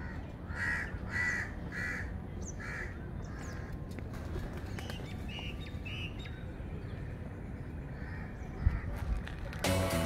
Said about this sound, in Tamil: பறவை கத்துற சவுண்டு மட்டும்தான் கேட்குது.